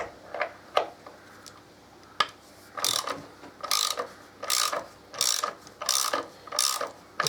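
A ratchet wrench loosens the bolts on the primary chain tensioner of a 2014 Harley-Davidson motorcycle. Several isolated clicks are followed by a steady run of six or seven close, crisp ratcheting bursts, with no talking.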